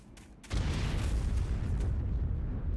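A big explosion in the video game Sonic 06, bursting in after a moment of quiet into a loud, sustained rumbling roar that holds steady and then slowly thins out.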